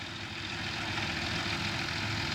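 A farm tractor's engine idles with a steady low rumble at a sugarcane and cassava farm, constant and fairly close for a couple of seconds.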